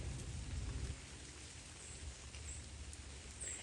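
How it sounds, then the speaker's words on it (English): A steady wash of rain patters through woodland on an autumn morning, with water likely dripping off the tree leaves overhead, continuous and fairly soft, with no voices. "It sounds like it's raining"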